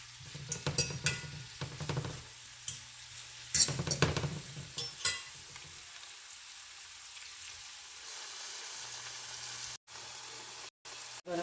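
Ackee and saltfish cooking in a pan, heard as a close, steady sizzle broken up by clinks and scrapes of a utensil against the pan, then a quieter, even frying hiss with no talking.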